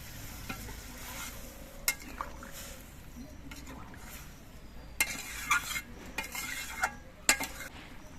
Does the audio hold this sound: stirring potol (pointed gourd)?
yes